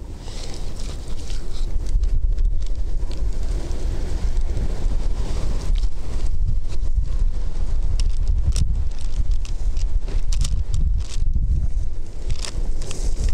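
Wind blows outdoors during open-air cooking of chicken quesadillas, buffeting the microphone with a loud, continuous gusty rush and some rustling that swells and dips across the whole stretch.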